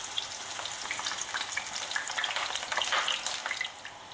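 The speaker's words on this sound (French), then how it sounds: "Dès que l'huile sera bien chaude, mettez-y donc vos aubergines coupées en lamelles" Aubergine slices cut into strips fry in very hot oil, a dense, bright crackling sizzle with rapid pops, held close and even throughout with no voices.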